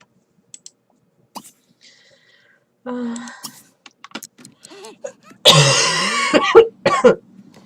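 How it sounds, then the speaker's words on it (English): Several harsh coughs burst out near the end, loud and close, after scattered clicks and brief speech-like sounds, with a computer game playing quietly in the background. "I apologise for the fact that I keep coughing on screen."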